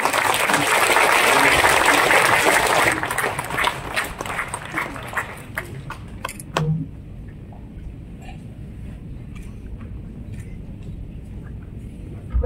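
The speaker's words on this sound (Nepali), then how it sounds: "ताली" Audience applause at the Madan Puraskar award ceremony in Kathmandu, loud and dense at first, then thinning into scattered claps before fading to a quiet room.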